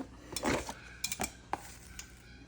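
A metal cooking pot for a beef dish clanks onto a stove, a cluster of close clattering knocks followed by a few lighter clinks, with no talking.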